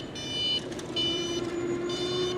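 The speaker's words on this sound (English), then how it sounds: "If I need a honk to tell anyone to get out of the way." A bright electronic horn on an e-bike sounds in three sustained tonal bursts with short gaps, close and fairly loud over low steady road and traffic rumble.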